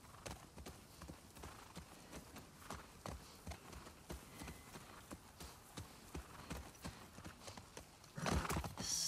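Horses ridden through Seattle in The Last of Us Part 2, their hooves clip-clopping at a steady walking rhythm, fairly soft. A short snort or whinny comes near the end.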